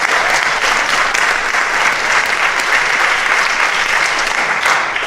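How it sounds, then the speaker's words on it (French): A congregation applauds during a New Year closing Mass in the Val d'Orge: dense, steady clapping from a large crowd fills the whole stretch at an even, full level without pause. "Applaudissez-les encore"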